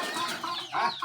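Chickens clucking at feeding time, several close overlapping clucks and short squawks filling the whole moment with no talking.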